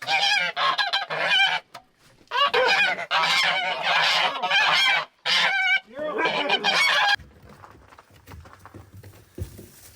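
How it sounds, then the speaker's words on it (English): Guard geese honk loudly and repeatedly at close range in rapid raucous bursts, falling silent near the end, leaving quiet background noise. "geese are great guards because they're loud, obnoxious, sometimes aggressive"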